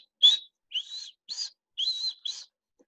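A thick-billed cuckoo in Kruger National Park's north, Punda Maria area, gives five clear, high whistled notes in quick succession, crisp and close in quiet surroundings.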